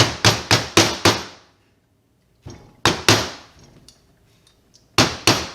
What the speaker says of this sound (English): we will tap it into place with our Duplo hammer as well